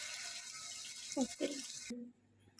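Tap water runs steadily over large crabs being washed in a sink, with a few louder splashes and scrubbing bursts before the flow cuts off near the end.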